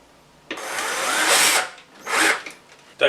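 A power screwdriver drives a screw to fix a corner bracket on a wardrobe shelf, two close whirring bursts, the first long and rising, the second shorter, with no talk.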